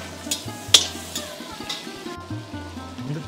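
Onions and tomatoes frying in a pan for sambar, a soft steady sizzle with repeated scraping and stirring strokes and a sharp metallic clink from the utensil.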